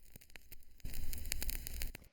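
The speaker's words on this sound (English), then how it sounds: "So the next layer is this vinyl crackle," A vinyl crackle sample used as a texture layer in a Burial-style drum production plays briefly, with sparse pops and clicks that thicken into a denser hiss and crackle before cutting off abruptly.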